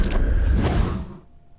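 A layered spear shot effect from the game Hyper-V: a deep bass ambience with two quick whooshes, a crunchy snap and a punchy trailer-style impact, building into a dense burst that fades to quiet within about a second and a half.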